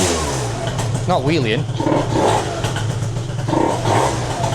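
A scooter fitted with a Stage 6 overrange kit revs hard and high, its loud engine note rising and falling while someone talks close over it.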